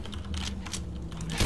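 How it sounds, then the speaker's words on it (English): Weapon reload in Left 4 Dead 2: a quick series of faint mechanical clicks and clacks with a hum underneath, ending in a slightly louder clack. "Reloading."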